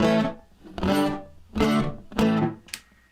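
Electric guitar played through a Fender Tone Master Pro with reverb, four strummed chords each ringing out with a short reverb tail before the next, then a faint final note.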